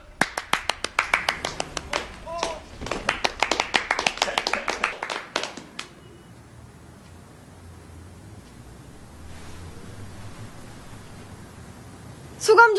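Coworkers clap for a colleague among restaurant crew, a few seconds of brisk, close hand claps in an uneven burst that fades out, followed by quiet room tone and a short rustle at the end.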